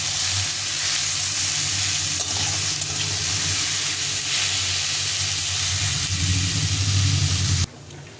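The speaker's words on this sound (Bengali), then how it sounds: "খুব ভালো করে একটু লাল লাল করে ভেজে নিতে হবে।" Sliced radish frying in a pan, browning for a Bengali ghonto: a steady, dense sizzle with stirring scrapes holds at even loudness for about eight seconds, then cuts off abruptly near the end, leaving a quieter hiss.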